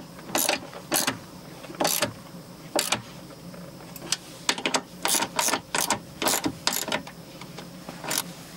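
Bolt being tightened with a ratchet while installing a towing mirror on a GMC Sierra or Chevrolet Silverado pickup, giving a series of sharp, close clicking bursts in an irregular rhythm with short pauses, no talk.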